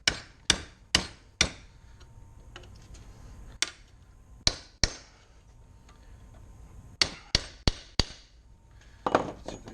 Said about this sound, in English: I'm going to chisel in between the ball joint and the control arm